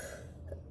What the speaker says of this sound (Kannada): ಮಾತಾಡಿದ್ರೆ ಕೆಮ್ಮು ಬರುತ್ತೆ.